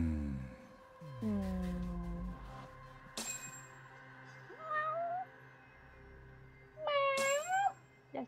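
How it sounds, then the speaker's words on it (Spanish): A cat meows several times in the video game Judgment on PS5, over soft synthetic background music, with bright chiming tones in between. "Oye, acá hay un gato."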